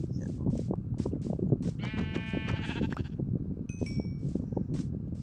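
Several video game sheep bleat in quick succession over a busy low rumble, one long wavering bleat standing out in the middle, fairly close.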